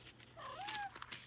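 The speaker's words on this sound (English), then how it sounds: "That's my cat." A house cat gives a soft, rising-and-falling meow close by, one drawn-out call over a quiet room with faint background noise.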